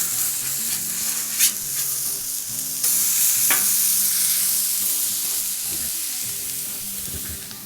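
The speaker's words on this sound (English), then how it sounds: "Okay, so I gotta flip this Smashburger here." A mushroom Swiss smashburger fries on a hot griddle after flipping, a loud, close, continuous sizzle with crackles and spatula scrapes, intensifying after the turn.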